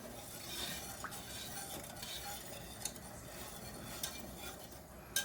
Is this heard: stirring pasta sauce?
yes